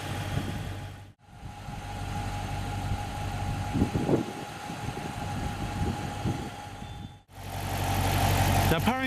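A 2017 Dodge Charger R/T's 5.7-litre Hemi V8 idles with a steady, close, low rumble, broken by two brief cuts in the sound.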